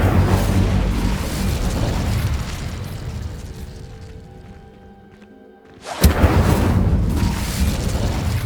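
In the Hogwarts Legacy video game, an Incendio fire spell goes off as a sudden sharp blast that erupts loudly after a quieter, fading stretch of rumbling game ambience.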